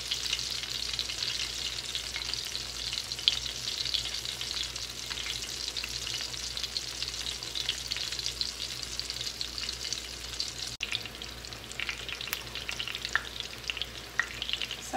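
Pork chop frying in a pan, a dense, steady crackling sizzle with bright spitting pops continuing close and loud throughout, no talking.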